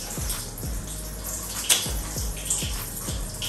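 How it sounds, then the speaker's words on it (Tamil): Running tap water washes a large fish at home, a steady close rush of water with repeated low splashing thumps as the fish is handled, with no talk. "ஃபஸ்ட்டு வந்து மீனை க்ளீன் பண்ணிக்குவோம் தண்ணி வச்சு."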